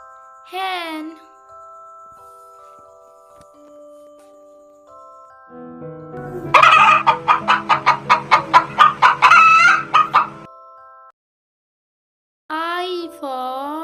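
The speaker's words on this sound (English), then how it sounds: "hen." A hen clucks in a rapid, rhythmic burst of about a dozen loud, close calls over a soft musical backing, with brief spoken words before and after.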